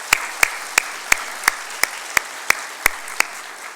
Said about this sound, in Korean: 우리 나올 때 힘찬 박수 해주시기 바랍니다.